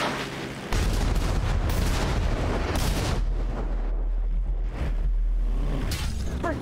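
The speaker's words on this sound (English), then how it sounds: "Be advised that MRP is being bombed." Bombing explosions in GTA 5 roleplay: dense, loud booms and blasts pound continuously, with a sharp burst near the start and heavy rumbling that keeps rolling through the whole stretch, no voices over it.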